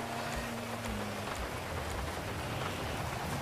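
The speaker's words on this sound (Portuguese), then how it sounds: "Vou tirar essa chuva" Steady rain pattering in GTA V, a constant hiss of drops on surfaces that fills the scene evenly from start to finish, with a low hum underneath at first.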